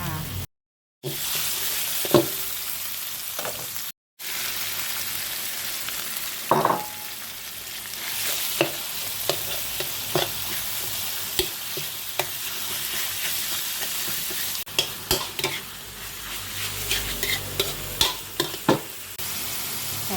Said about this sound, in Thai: อันนี้เราก็จะมาทำผัดกะเพราหมูสับต่อค่ะ